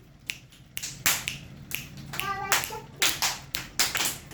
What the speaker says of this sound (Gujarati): હવે ચપટી વગાડો બધાય.